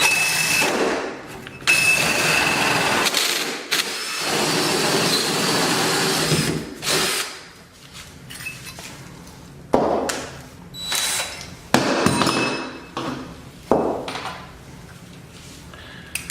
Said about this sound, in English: Now I'll drill the second side, following that same hole.